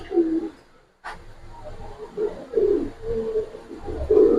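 Soft racing pigeon coos repeat at a steady pace, low and close, after a brief sharp click near the start.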